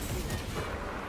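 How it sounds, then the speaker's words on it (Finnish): Rapid gunfire from Warhammer 40k: Space Marine 2, a dense, continuous barrage of shots and booms filling the whole moment, loud and close with no pauses. "Mistä minua ammutaan?"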